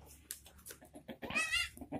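Two mother goats with newborn kids bleat in a bamboo-floored pen, giving short, close calls and one longer wavering bleat, with soft shuffling and small noises in between.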